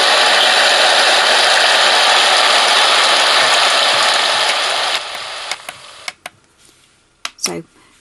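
A Homedics Sound Spa Rejuvenate white noise machine runs its rain setting, a dense, steady hiss of falling rain that cuts off after about five seconds, followed by a few faint clicks and handling sounds.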